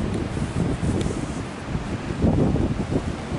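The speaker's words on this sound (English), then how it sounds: "It's kind of windy today, but it's all right." Wind gusts outdoors on a breezy day while children finger-paint, making a continuous low rumbling buffet across the microphone with surges and no clear voices.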